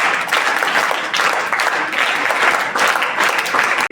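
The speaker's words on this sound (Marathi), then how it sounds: "आपण त्यांच्यासाठी जोरदार टाळा वाजवून त्यांच्यासाठी" A large audience applauds loudly and steadily for school students at a science exhibition, a dense wash of clapping that swells and holds for several seconds.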